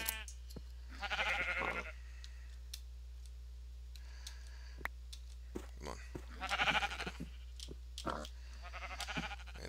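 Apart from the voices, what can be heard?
sheep bleating in Minecraft video game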